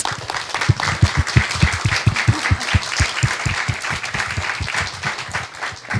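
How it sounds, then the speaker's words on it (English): An audience at a climate change talk gives a round of applause for Kate Marvel. It is a full, lively clapping with close individual claps standing out rhythmically over the crowd's wash, and it stays strong throughout. "Ladies and gentlemen, a round of applause for Kate."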